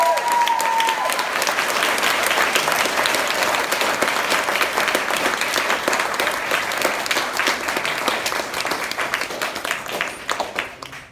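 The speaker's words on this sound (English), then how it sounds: "a round of applause for Elizabeth, please" A large audience at an evening literary event in a London bookshop claps steadily and loudly for about eleven seconds, a dense continuous applause that tapers slightly at the end.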